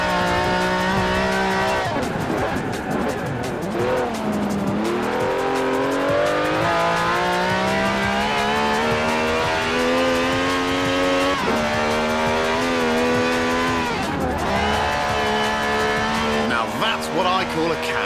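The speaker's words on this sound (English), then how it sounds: "This has a V12 with over 750 horsepower, plus bucket seats" A V12 car engine with over 750 horsepower in Forza Horizon 4 revs loudly and continuously, its pitch climbing and dropping through gear changes, with a voice talking over it.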